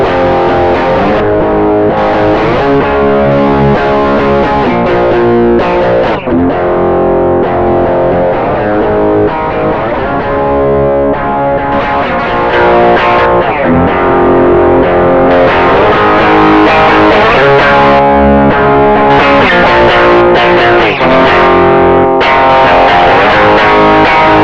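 Electric guitar played through a SansAmp amp-simulator plugin in Pro Tools, heavily distorted and loud, with chords and riffs shifting in tone as settings change, continuous with no talking.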